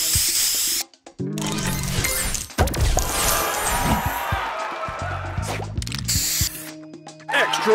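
Spray booster effect in the Match Masters puzzle game: bursts of loud hissing spray mixed with crashing, clinking game effects and short musical tones, all in quick succession.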